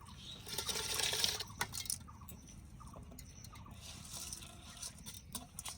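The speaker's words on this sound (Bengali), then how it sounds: "এই ঘটির 2 ঘটি জল দিচ্ছি, যদি লাগে পরে আবার দেব।" Water is poured from a small pot into a cooking pot for boiling rice in a traditional Bengali village kitchen: a short splashing gush early on, then quieter patter with faint ambient noise.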